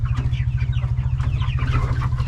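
Chickens clucking in a dusty barn, a dense close chorus of overlapping clucks and chatter over a constant low hum, no talk.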